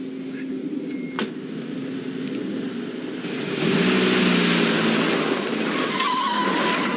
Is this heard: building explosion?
no